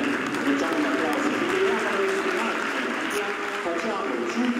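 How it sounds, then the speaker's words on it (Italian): An audience applauds at a barbershop furnishing presentation, a steady wash of clapping with a voice talking over it throughout. "Facciamo un applauso,"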